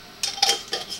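A tablespoon of dehydrated peppers is dumped into a jar, giving a few short dry rattling clatters in quick succession, close and fairly soft, with no talking.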